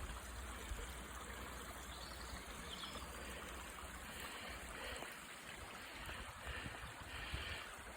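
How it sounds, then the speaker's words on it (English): Small stream running into a river near Duneight motte and bailey, Ravarnette, heard as a steady, broad rushing wash of moving water throughout, with no talk. "There you can see a wee stream running into the river there."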